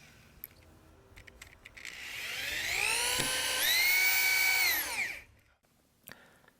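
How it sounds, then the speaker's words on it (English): A power drill sinks 3-inch screws into the support beams of a wooden halfpipe, giving one sustained, close whine that climbs in pitch, holds for a few seconds, then cuts off, with light knocks before and after. "Now secure the 3 support beams with 2 3-inch screws per end."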